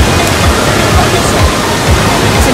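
A waterfall in Bali gives a loud, steady broadband rush of falling water that runs unbroken and close for the whole stretch, with no clear voices over it.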